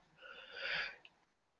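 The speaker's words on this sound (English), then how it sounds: "I'm gonna sneeze" A single sneeze bursts out during a live radio broadcast, quiet and a little muffled, building briefly and fading, followed by a small click.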